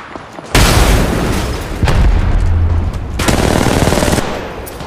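An Arcstar grenade detonates amid heavy automatic gunfire in Apex Legends Mobile, with loud sustained bursts and booming blasts filling the scene almost continuously, alone without talk.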